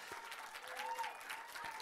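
An audience claps continuously, a soft but full patter of applause that stays fairly steady, with faint voices mixed in.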